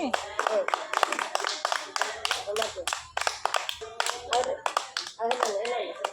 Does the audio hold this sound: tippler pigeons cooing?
no